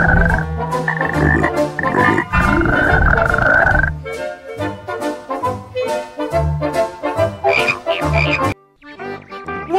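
Loud, rhythmic frog croaks repeat in quick bursts from a cartoon soundtrack, a dense ribbed croaking that pulses steadily before dropping off near the end.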